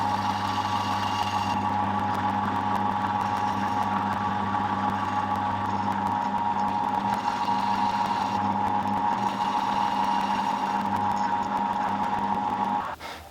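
A milling machine cuts a steel suspension link for a Group A R32 third-link jig, a steady whining drone with tonal hum running continuously at close range, with no talk, then stopping abruptly at the end.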